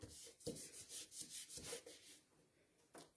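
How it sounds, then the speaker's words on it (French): Scissors cut through design paper for bookmarks, giving a series of close, crisp snipping and rustling strokes in a quick rhythm that trail off into quiet with one last snip. "on peut couper au ciseau."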